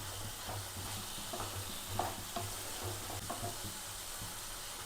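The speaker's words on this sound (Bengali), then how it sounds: "এবার তেলের মধ্যে আগে মশলাটা আমি একটুখানি ভেজে নেব।" Spices fry in oil in a pan with a soft, continuous sizzle and a few light knocks of stirring, heard close and quiet with no one talking.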